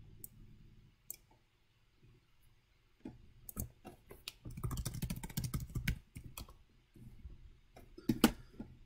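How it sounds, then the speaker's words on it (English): Typing on a computer keyboard into a Google Docs document: close, crisp key clicks, sparse at first and then in dense bursts, with pauses between runs of keystrokes. "I apologize for typing all this out into a text document here"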